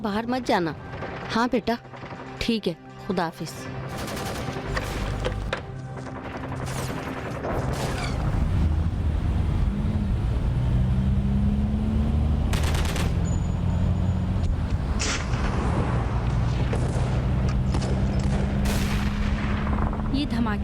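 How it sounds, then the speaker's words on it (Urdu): A dubbed Iranian drama scene has bursts of gunfire that start as sharp scattered shots, then swell into a continuous heavy barrage with booms. People talk over the opening shots. "جی محترمہ، گولیوں فائرنگ کی آواز تھی"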